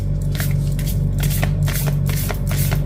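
Moon oracle card deck being shuffled by hand, a close, continuous papery riffling with soft repeated flicks over a steady low background hum.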